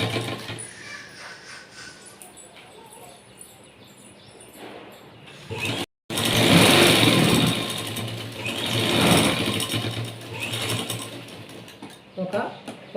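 A sewing machine stitches along a folded blouse edge, the motor whirring in bursts with a short pause midway, louder after the break, while someone talks over it.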